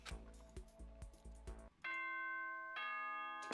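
A school announcement chime in the Danganronpa video game: a few clock-like ticks, then two sustained, bright bell tones ringing out clearly one after the other.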